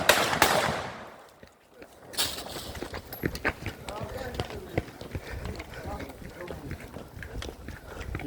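Gunfire during an armed confrontation between soldiers and the Nigerian armed forces at a state secretariat in Ibadan, Oyo State: sharp, irregular distant bangs and scattered cracks over outdoor noise, with shouting voices throughout.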